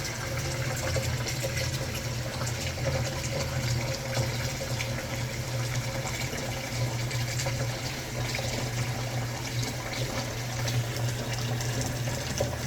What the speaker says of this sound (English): I'm using Adamine dishwashing liquid, and these are my bowls